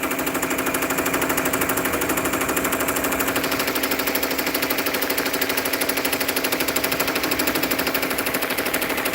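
A Ricoma MT1501 embroidery machine stitching a patch, with a steady rapid mechanical clatter that runs without a break the whole time, loud and close, with no voices.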